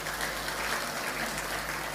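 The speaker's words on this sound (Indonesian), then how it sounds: "Tepuk tangan buat Tuhan" Applause from a church congregation, a dense, steady wash of many hands clapping in a large room, continuous through the short moment and not broken by speech.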